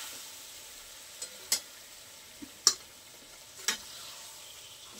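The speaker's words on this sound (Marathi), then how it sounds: "आपण छान ते मिक्स करून घेऊया, जेणेकरून पास्त्याला आपण परतलेला सर्व मसाला लागेल." Homemade pasta sizzles in oil over a low flame and is stirred with spices in a pan. A soft, continuous sizzle runs throughout, punctuated by several sharp scraping clicks of the stirring utensil against the pan.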